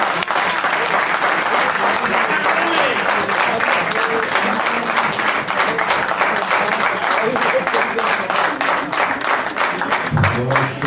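Sustained, dense audience applause fills a poetry recital hall in Montreal, welcoming poet Irfan Sattar; the clapping stays loud and even throughout, easing slightly near the end.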